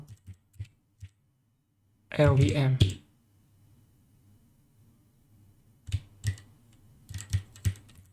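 Typing on a computer keyboard during a Linux installation. Scattered sharp key clicks come in short bursts, first alone and then after a brief stretch of a person talking, close and fairly clear.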